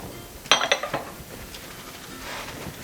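A large metal frying pan clatters and clinks a few times in quick succession as it is set down and handled on a kitchen stove, followed by quieter faint rustling.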